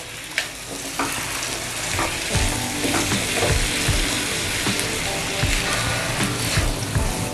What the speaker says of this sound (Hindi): इसमें गोभी डाल देते हैं, थोड़े से स्प्रिंग ऑनियन, इसे मिक्स कर देंगे।